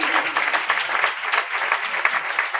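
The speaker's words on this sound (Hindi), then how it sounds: "आप जोरदार तालियां बजाएं" A church congregation at a sermon bursts into loud, energetic clapping, a thick and continuous wash of applause that holds steady from start to finish.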